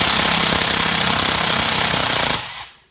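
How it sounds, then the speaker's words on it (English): A Milwaukee Fuel power driver runs in a steady loud, rapid hammering burst while fastening hex-head bolts on an RC truck chassis, then cuts off and winds down abruptly near the end. "what kind of driver I'm using, this is a Milwaukee Fuel."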